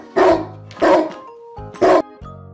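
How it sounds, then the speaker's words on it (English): A dog barks three times in sharp, loud, close bursts, with short pauses between them and no other sound. "Dog."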